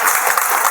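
An audience at a gathering in Mathura claps together, a short dense burst of applause with no talk over it.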